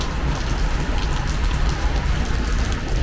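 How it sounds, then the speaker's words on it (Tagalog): Heavy winter rain in Armenia pours steadily, a dense, constant hiss and patter with no pauses, close and loud. "Ang problema, ang lakas ng ulan."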